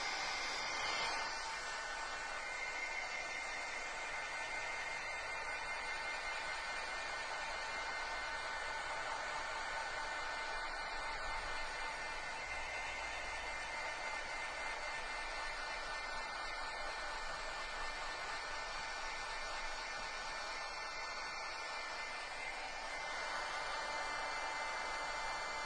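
A heat tool blows steadily while drying paint on an art journal page, a constant loud whooshing hiss that barely changes throughout.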